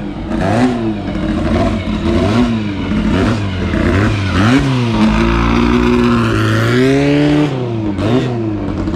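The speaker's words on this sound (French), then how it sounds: "Les voitures sont en train de quitter les paddocks. Elles vont aller se mettre près de la piste." Historic Formula 1 cars pull out of the paddocks at Circuit Paul Ricard, loud nearby engines revving and blipping in rising and falling sweeps, several cars overlapping with mechanical clatter.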